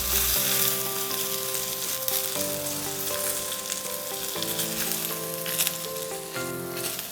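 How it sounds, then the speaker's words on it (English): Cabbage wedge sizzling on an indoor grill, a loud, steady frying hiss that fills the whole stretch, with faint clinks and a low tonal hum underneath. "Okay, now we're gonna flip the cabbage."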